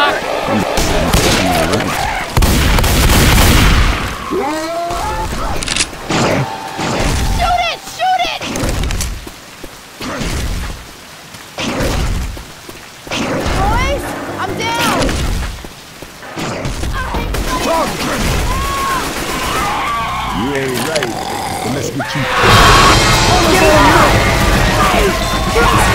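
Rapid gunfire from shooting at a jockey in the video game Left 4 Dead 2, loud bursts and crashes running almost continuously with players talking over them.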